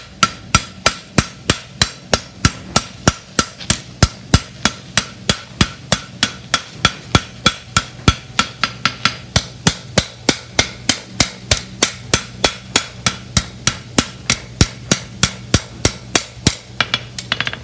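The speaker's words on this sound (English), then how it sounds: "just straight up and down with a hammer" A hammer strikes metal on an anvil in a fast, steady rhythm of sharp, ringing blows, close and loud, flattening the work during horseshoeing-style shaping, with no talk.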